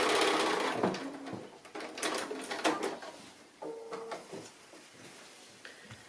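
A sewing machine runs in short bursts while stitching a cushion seam, its rapid mechanical whir starting and stopping several times, fairly close and moderate in volume, with a couple of small clicks between runs.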